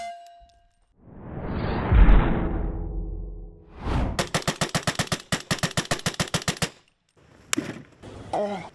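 A suppressed 300 Blackout rifle firing Hornady subsonic rounds at a steel plate, with loud sharp reports and metallic clangs, including a rapid string of evenly spaced shots followed by scattered single hits and ringing, with no talk.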